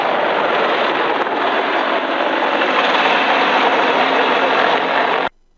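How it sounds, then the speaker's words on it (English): A loud, steady roar of a Tiger attack helicopter's engine and rotor wash as it flies in fast, sustained at close range before cutting off abruptly. "a Tiger attack helicopter was coming in fast"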